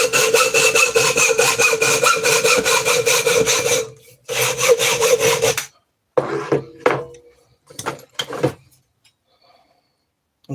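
Hacksaw strokes cut through metal in a shed, fast and loud in an even back-and-forth rhythm for about four seconds, then a short burst after a brief pause, followed by scattered clinks and scrapes before quiet.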